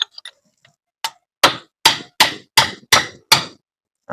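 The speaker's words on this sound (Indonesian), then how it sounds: "Untuk pergantian as, saya memakai palu dan skok sepeda motor ya." A hammer drives a motorcycle socket against the shaft of an electric fan being serviced, giving about seven loud, sharp metallic blows at a steady, even pace after a few lighter taps.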